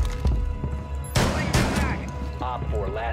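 Rapid, loud gunfire comes from a weapon firing at 200 rounds per minute in the video game Rainbow Six Siege, with several sharp blasts and lingering echoes under the general game noise.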